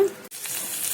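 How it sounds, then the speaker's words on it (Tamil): Pieces of mango vaval fish coated in masala sizzle in coconut oil on a tawa, giving a steady close crackle and hiss of frying with a brief dip partway through. "அதில் உள்ள இருக்கிற மசாலா எல்லாம் வெளியில வந்து தண்ணி சத்தம் கேட்குதுங்க"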